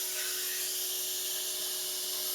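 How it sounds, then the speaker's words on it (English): An angle grinder fitted with a diamond blade and a vacuum dust attachment cuts into stucco on a house corner, giving a steady high-pitched hiss and whine that holds evenly throughout with no talking. "He's got an angle grinder with a diamond blade on it and a vacuum attachment"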